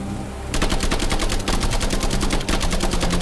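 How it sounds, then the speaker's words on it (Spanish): Loud, rapid machine gun fire in a video game bursts out after a brief lull, a dense string of sharp shots at steady rhythm with a short break near the middle before resuming. "La ametralladora es mejor."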